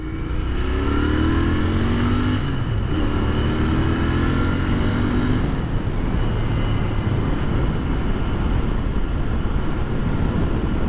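A Royal Enfield Continental GT 650 motorcycle accelerates hard on the road. The engine note climbs steadily through the gears, with brief dips at each shift, under constant loud wind rush and no talking.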